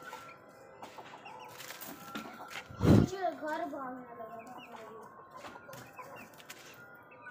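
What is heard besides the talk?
rooster clucking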